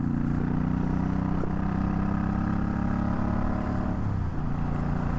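A Suzuki Boulevard M50 cruiser motorcycle rolls along in fifth gear at about 55 mph, its engine droning low and steady under loud wind rush, easing slightly toward the end.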